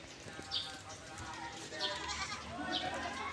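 Goats on a small farm bleat three times, short nasal calls spaced about a second apart, moderately close, with someone talking in Filipino underneath and light outdoor background noise.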